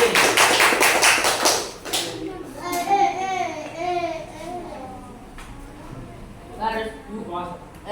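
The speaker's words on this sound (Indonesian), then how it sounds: "Tepuk tangan." Children in a classroom clap their hands in a loud burst of dense rapid claps lasting about two seconds, followed by children's voices and chatter.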